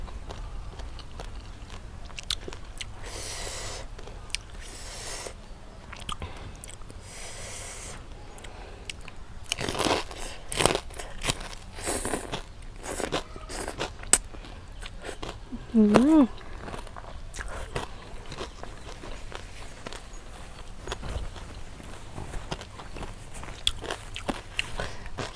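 Crunchy bites and chewing of spicy Thai papaya salad with rice noodles and crispy pork come close and intermittently, mixed with scrapes and rustles, while people talk now and then.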